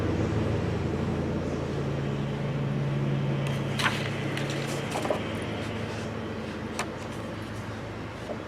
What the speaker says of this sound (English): but they're mowing our yard outside